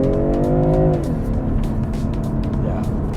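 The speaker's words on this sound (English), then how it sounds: "Yeah, make some funky sounds." BMW M340i engine in sport mode, a loud close rev that holds then drops sharply into a rumbling idle with crackles and pops, steady and throaty for the rest.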